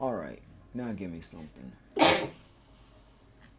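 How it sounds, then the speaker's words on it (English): A single loud, close sneeze bursts out after a man's short spoken line, a sharp breathy blast that fades quickly. "sneeze is not what I was looking for"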